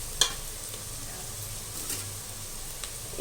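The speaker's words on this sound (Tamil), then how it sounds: "இப்போ இந்த வெங்காயம் நல்லா வதங்கிச்சு பாருங்கள்." Onions sautéing in a pan for vegetable biryani, a soft, even sizzle close by with a couple of faint utensil taps, quiet and without talk.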